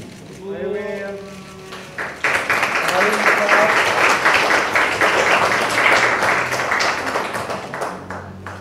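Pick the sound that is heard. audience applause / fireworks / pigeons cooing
audience applause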